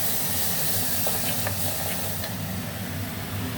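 Turmeric, onions, chillies and ginger-garlic paste fry in a pan with a dense, continuous sizzle and hiss. A few faint taps of stirring sound through it, and no one speaks.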